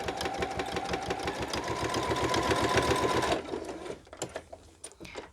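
A sewing machine rapidly stitching through vinyl for a project bag with a wristlet, a steady close mechanical chatter for about three seconds that stops, followed by a few sharp handling clicks.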